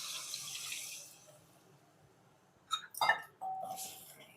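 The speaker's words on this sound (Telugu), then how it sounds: "చింతపండుని వాటర్ వేసుకొని వడకట్టుకొని పులుసు వేసుకోవాలి." Strained tamarind water pours into a pot of sambar with a steady, soft rush for about a second, then goes quiet before a few sharp metallic clinks and a brief splash.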